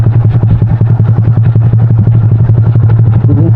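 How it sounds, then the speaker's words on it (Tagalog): A motorcycle engine labors loud and close on a steep mountain trail, a steady throbbing clatter with a deep hum running underneath the whole time. "hindi ko na kayang paakyatin itong motor dito."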